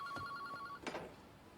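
Telephone ringing in an episode of the anime Bleach: a steady electronic ring tone with repeated short pulses, faint and lasting under a second, followed by a brief burst of other sound.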